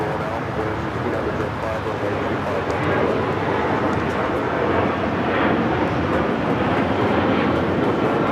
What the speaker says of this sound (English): That is American Airlines 1972 taking off to Dallas, Fort Worth on the A321.